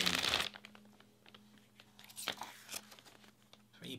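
Thick, durable plastic bag wrapping from a tank model kit crinkles and crunches as it is handled, opening with a loud burst of rustling, then softer scattered crackles close by with a low hum underneath.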